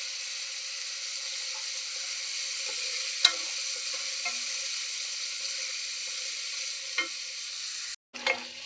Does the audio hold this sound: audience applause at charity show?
no